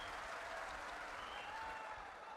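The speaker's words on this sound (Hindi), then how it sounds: "दादा को ताली बजाओ, वहां से भभूति ले लो।" A large gathering at a Bageshwar Dham divine court religious assembly claps in a steady, dense wash of applause, continuous and fairly distant, with no voices standing out.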